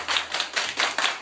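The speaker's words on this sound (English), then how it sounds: "Everybody clap your hands!" Several bursts of hands clapping together in quick rhythmic groups during a birthday livestream, fairly close and alone without talk.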